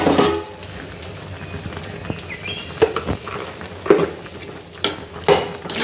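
Kerala aviyal vegetables stirred in a pot with a spoon, giving soft wet scraping and irregular clinks against the metal over a low simmering hiss, with several louder knocks spaced a second or so apart.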